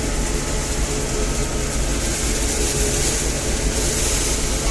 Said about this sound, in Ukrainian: Він вже їде, та сторона жатки грибе, він буксує, геть чути, пробуксовує.